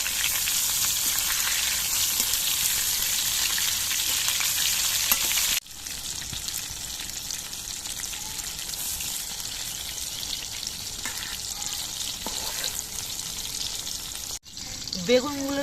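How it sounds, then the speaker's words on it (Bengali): Long eggplant slices sizzle in hot oil and are flipped and turned, with a continuous close frying hiss broken by two quick cuts and occasional soft scraping and stirring sounds. "বেগুনগুলো আমি উল্টে পাল্টে দু পিটি ভালো করে ভেজে নিচ্ছি"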